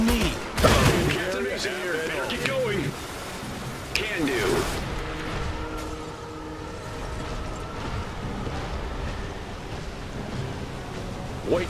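Machine gun bursts in the Iron Harvest real-time strategy campaign, a sharp rattling volley near the start and another a few seconds later, over a steady wintry battlefield background with voices talking.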